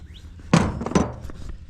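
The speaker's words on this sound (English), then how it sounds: "a really big hammer, that'll get it out" A hammer knocks loose a rusted bolt on a wheelbarrow, giving two loud, close metallic thunks about half a second apart with quieter clatter after.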